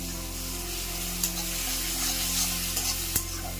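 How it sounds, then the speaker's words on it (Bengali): Onions with green chillies sizzle steadily in a hot pan, with occasional scraping stirs and a faint electrical hum underneath. "পেঁয়াজটাকেই ভাজছি"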